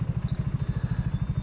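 A 2023 BSA Gold Star motorcycle engine idles close by with a steady, loud, lumpy single-cylinder thump pulsing evenly throughout.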